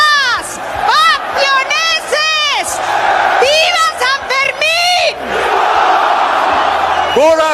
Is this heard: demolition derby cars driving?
no